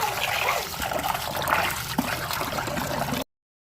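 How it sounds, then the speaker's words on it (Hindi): Three kinds of lentils for dal being rinsed by hand in a bowl of water, a steady close trickling and sloshing with small splashes throughout. "इसको अच्छे से वॉश कर लूँगी मैं।"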